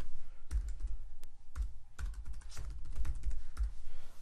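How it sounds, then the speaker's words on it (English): Several close, distinct keystrokes on a computer keyboard as a password is typed at a logon screen, a short irregular run of taps over a low background hum with no talking. "I will type in my password."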